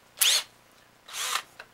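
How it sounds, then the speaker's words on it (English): A hand drill with a 7/64 bit bores a pilot hole in a wooden clothespin in two short, close whirring bursts, with a faint tap at the end and no talk. "And then we're going to take our hand drill once more with a 7/64 bit."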